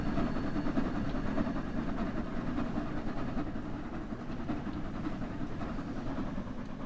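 A BR 01 steam locomotive pulls a special train in Train Sim World 4, producing a loud, continuous rumble and rolling rail noise throughout with no speech.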